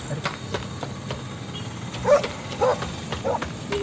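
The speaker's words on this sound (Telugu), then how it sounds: "కుక్కలు ఉన్నాయి." Street dogs bark in a Telugu film scene, a few sharp barks coming at moderate distance over a steady background hum, with voices talking in the scene.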